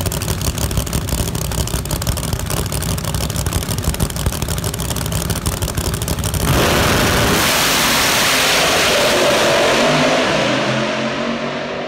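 A nitrous-fed pro mod drag racing car launches down the track in the finals: a dense, harsh engine roar that holds steady, then bursts into louder broadband rushing noise partway through.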